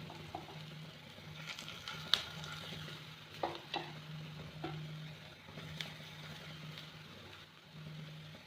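Dal pakora frying in hot oil on a gas stove turned down to a low flame, giving a quiet, steady sizzle with scattered small pops and crackles, heard close with no talking.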